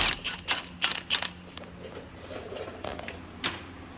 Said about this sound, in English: Next, I'm going to use a 17 millimeter to take off these 3 ball joint bolts.